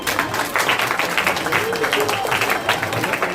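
A school assembly at a government senior secondary school breaks into hearty applause during an Independence Day program, steady massed clapping filling the space while a voice carries on over it.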